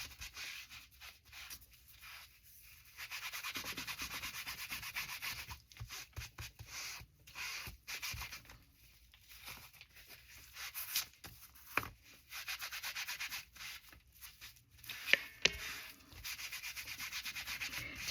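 A saturated rubber stamp is wiped clean with soft, intermittent rubbing strokes, quiet and close, arriving in short bursts separated by pauses.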